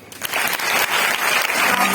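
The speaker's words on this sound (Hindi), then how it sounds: "ताली बजा दो।" Seminar audience bursts into applause after a brief quiet start, the dense clapping swelling quickly and holding loud and steady to the end.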